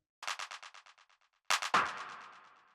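Clap samples from a dark techno track: one clap trails off in rapid fading echoes, then a brief gap and a deeper, heavier clap with a longer, noisy decay.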